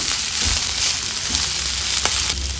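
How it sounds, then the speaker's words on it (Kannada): Mint leaves and spices frying for goat head curry, a loud steady sizzle with crackles and soft stirring scrapes, close and continuous with no voices. "ಒಂದು 2 ನಿಮಿಷ ಫ್ರೈ ಮಾಡಿಕೊಂಡು ಗ್ಯಾಸ್ ಆಫ್ ಮಾಡ್ಕೊಳ್ಳೋಣ."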